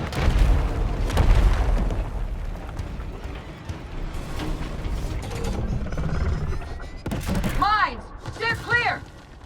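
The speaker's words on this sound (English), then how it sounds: "it's fired off a ton more mines here" Corpser boss in the Gears Tactics video game firing off a volley of mines, heard as booming thuds and mechanical clatter with rising whistling launches near the end, all loud and close in a busy game mix.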